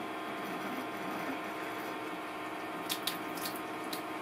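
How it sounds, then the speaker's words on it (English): An RV faucet runs with a steady, soft watery hiss during winterizing, joined near the end by a few brief splashy clicks and drips. "Now we'll do the hot water."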